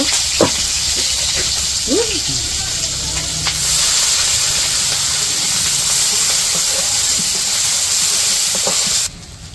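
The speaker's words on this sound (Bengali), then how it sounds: "পেঁয়াজ কাঁচামরিচ ভাজা হয়েছে" Onions and green chilies fry in hot oil in a village kitchen wok, giving a loud continuous hiss and sizzle, with a few faint clinks and brief bits of background sound.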